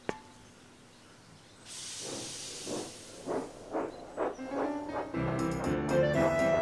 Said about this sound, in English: Thomas puffed proudly into the wharf.